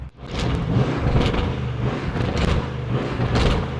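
A loud sports car engine roars and revs hard, surging in repeated pulses with a deep rumble, close by and with no talking over it.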